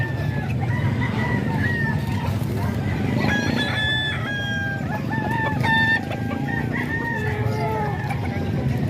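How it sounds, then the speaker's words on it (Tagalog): Several roosters on a gamefowl farm, among them a tall gray Talisayin about ten months old, crow one after another, overlapping near and farther off above a constant low murmur of clucking hens. "Natangkad na manok to mga ka-idol."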